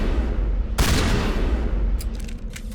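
A full-auto pistol (the Spectre Gear) fired in the video game Mass Effect, with a dense burst of rapid gunfire cracking over a steady low rumble of game ambience.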